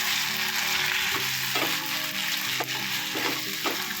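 Gobi Manchurian sizzling and frying in a pan, with a steady sizzle throughout and several scraping stirs of a utensil against the pan, close and loud with no talking.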